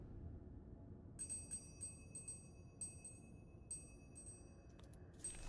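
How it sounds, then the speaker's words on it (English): A bell in The Room 2 puzzle game rings with a series of bright, clear metallic dings, each sustained briefly, then a scrape and a final ring, faint over low background hum. "Cool bell."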